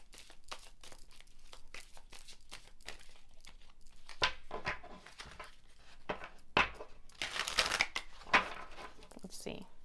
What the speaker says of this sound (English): Give it one last good shuffle.